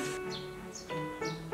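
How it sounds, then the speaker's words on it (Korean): Birds chirp indoors near a makeup session, giving short bright tweets in quick irregular bursts, moderately close, over a low steady background hum. "새소리가 왜 이렇게 많이 나지?"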